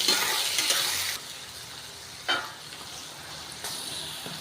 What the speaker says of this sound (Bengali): এবার পুরোটা একসঙ্গে ভাজা ভাজা হবে